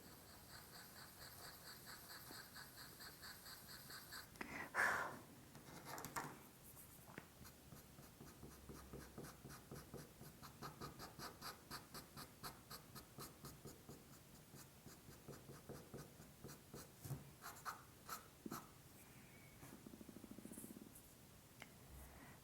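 Graphite pencil shading across paper while texturing a dark iris in a portrait drawing: steady, close scratchy strokes repeating in a quick rhythm, faint and soft, with no talking.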